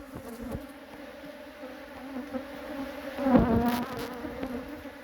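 Honeybees in a large opened hive hum in a steady drone, swelling briefly louder as the colony stirs.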